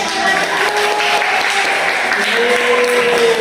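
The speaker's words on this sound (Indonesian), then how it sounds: "Beri tepuk tangannya banyak" Classmates in a classroom clapping for a presenting group during a microteaching lesson, dense continuous applause close and fairly loud throughout, with faint voices mixed in.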